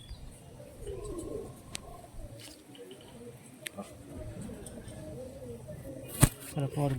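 Madras long-distance flying pigeons coo softly and repeatedly in a quiet setting, with faint voices in the background and a sharp click near the end.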